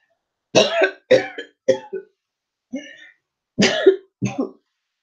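A series of six harsh coughs close by, coming in quick bursts with short pauses between them.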